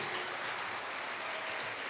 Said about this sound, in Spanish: Dale un aplauso y dale gloria a Jesús